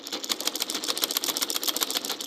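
A sewing machine stitches fabric for a short gown in a rapid, pulsing run of needle strokes, quiet and close, continuing without pause.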